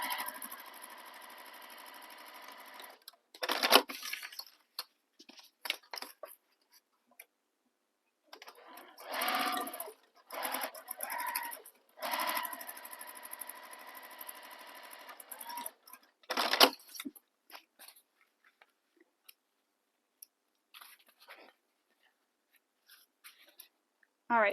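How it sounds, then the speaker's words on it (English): A sewing machine stitches the side edges of a tote bag in several loud, close bursts of rapid whirring, separated by short silent pauses for repositioning. "So you'll sew those using the seam allowance given in the pattern."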